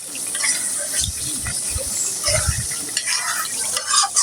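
Spices roasting in a pan for a chicken roast, a steady sizzle with stirring scrapes and low knocks of the utensil against the pan.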